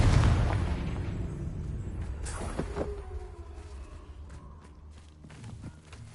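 A Confringo spell blast in Hogwarts Legacy, a fiery magical explosion that opens with a heavy low boom and rumbling burst, then trails off through scattered pops and crackles.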